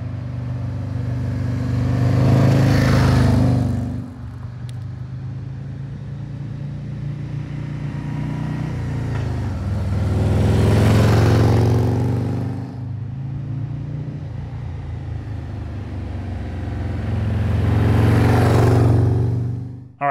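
Harley-Davidson motorcycle fitted with Khrome Werks plug-insert exhaust baffles rides along a road, its low rumbling exhaust swelling three times as it accelerates and easing off between pulls, steady and fairly loud throughout.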